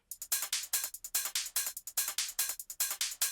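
A fast electronic drum pattern loops steadily, with crisp bright hits and hi-hat-like ticks in a tight repeating rhythm, clear and unaccompanied.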